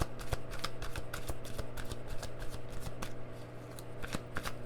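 Tarot deck shuffled and cards drawn during a Halloween reading, a dense run of close, crisp riffling and flicking card sounds that continues steadily throughout.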